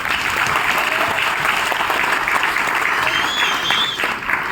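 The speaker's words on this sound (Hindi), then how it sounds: "सब लोग मिलकर एक बार ताली बजाएं" An audience at a comedy show in a Bollywood theme park in Mumbai claps together, a dense, even wash of applause that holds steady and loud throughout.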